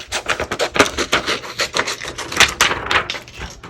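Excess heat transfer vinyl being cut away while making an HTV T-shirt: a close, steady run of rough scraping and rasping cuts in quick irregular bursts, with no talking.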